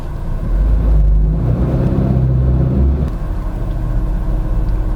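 A 2023 GAC Empow GB launches hard under launch control, its deep engine rumble and road noise surging loudly inside the cabin, then settling into a steady drone as it accelerates.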